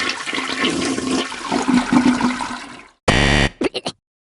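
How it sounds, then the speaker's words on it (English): A toilet flush sound effect gurgles and rushes loudly for about three seconds, then cuts off and is followed by a short buzzer tone and a few quick beeps. "hoping to hear a toilet flush sound"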